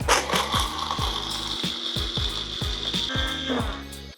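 A blender grinds nuts with cumin powder, salt and oil. A high motor whine runs throughout, with close, regular knocking pulses as the contents tumble inside the jar.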